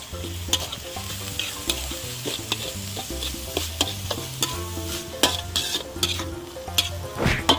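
Thai basil stir-fry sizzles in a pan while a utensil scrapes and stirs in irregular, close strokes, with sharp knocks against the metal over steady frying hiss.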